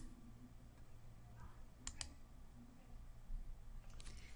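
A computer mouse clicks while someone works in patient-records software for hearing aids. A few quick, faint clicks come in pairs over a quiet, low room hum, with no one talking.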